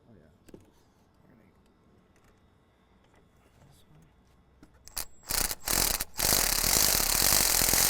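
A ratchet on a wobble extension loosens hose clamps on the intercooler boot of an LLY Duramax, with faint clicking at first and then louder, bursty rasping close by near the end.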